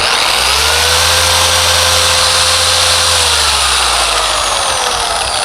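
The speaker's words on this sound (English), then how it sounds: "even at speed 6, this thing is going strong. Like, you can hear the motor really like forcing itself" Adams Swirl Killer polisher running steadily at speed 6, a loud continuous motor whine with a low droning hum, holding constant pitch throughout with no talking.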